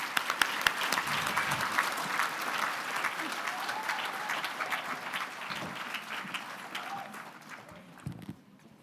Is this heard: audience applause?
yes